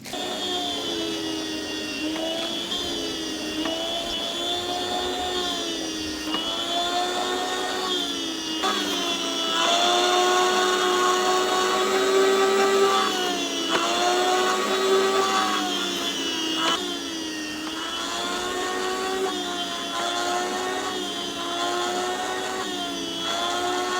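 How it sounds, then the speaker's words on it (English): An electric meat slicer cuts rested, grill-smoked Baltimore pit beef into thin pieces, a steady motor whine that rises and dips slightly with each pass of the blade, continuous and close, with no talking. "Let's throw it on the slicer."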